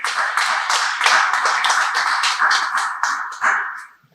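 Applause from an audience at a Nigerian electricity customer engagement forum in Mpape, steady dense hand clapping for about four seconds before fading out, with no talk over it.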